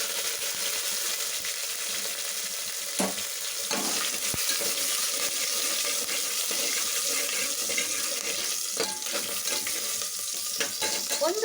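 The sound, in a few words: curry leaves and Byadgi chilli frying in oil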